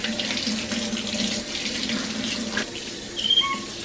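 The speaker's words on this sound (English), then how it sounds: "Boo, that water's hot, buddy." Steady hot water runs from a tap into a bathtub being filled for a capuchin monkey's bath, a continuous close splashing rush with brief squeaks near the end.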